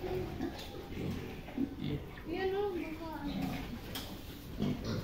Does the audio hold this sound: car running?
no